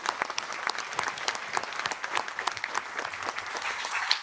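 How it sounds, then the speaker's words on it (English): Audience members at an EMBA forum applaud after a session, a dense patter of clapping from a moderate crowd, fairly soft and even, with individual hand claps standing out here and there. "Folks, let's give another round of applause for the great"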